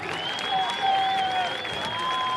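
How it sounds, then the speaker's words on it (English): Crowd at a varsity football game vs North Polk applauds the 7th and 8th grade band, steady clapping under sustained tones and faint background voices. "Let's give another round of applause to the 7th and 8th grade band."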